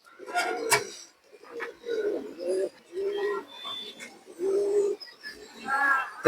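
A pigeon for sale coos in a series of soft, low, rounded calls close by, repeating with short pauses between phrases and no talk.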